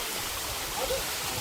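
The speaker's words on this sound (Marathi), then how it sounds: "आणि वरून छोटासा धबधबा पण आहे" A small waterfall feeds a cold stream on a monsoon trek to Torna Fort, making a dense, steady rush of water that is fairly close and fills the short moment with no clear speech.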